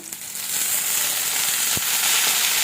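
Tamarind, garlic and dried chillies are sautéed with salt in a pan, giving a loud, steady, close hiss of frying that swells after the first half second, with one sharp click midway and no one talking.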